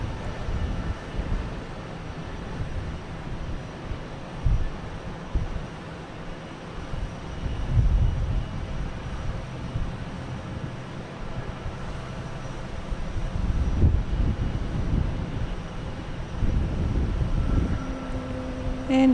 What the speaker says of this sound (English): Next takeoff, we have JetBlue, A220 heading to Eric's Land, Tampa.